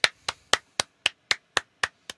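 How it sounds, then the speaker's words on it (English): Applause for the speakers at the close of a UCL Healthcare Engineering science showcase comes as nine sharp, evenly spaced hand claps from a single nearby clapper, with quiet gaps between them and no talking. "let's give all of our speakers a final round of applause"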